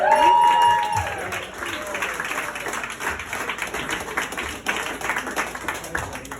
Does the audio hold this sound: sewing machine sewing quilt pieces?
no